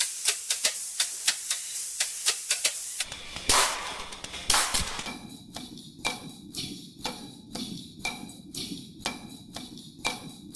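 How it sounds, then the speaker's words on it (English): An AI-generated hi-hat sample in three variations meant to evoke a train on a railroad track: rapid rhythmic metallic ticks, then a hissing steam-like burst, then a chugging, evenly pulsed clatter. "A hi-hat that is a train on a railroad track."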